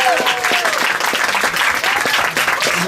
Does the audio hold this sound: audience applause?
yes